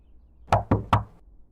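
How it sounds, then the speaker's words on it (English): Three quick, evenly spaced knocks on a door in the visual novel game Doki Doki Afterimage, loud and close with nothing else around them. "At least I don't have to do the knocking."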